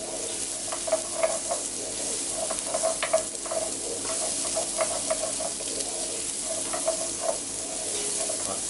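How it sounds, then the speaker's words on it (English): Chopped onions and garlic sauté in a hot pan with a continuous close sizzle. Soft stirring strokes scrape through it at intervals, and no one speaks. "Saute those up until they're nice and brown."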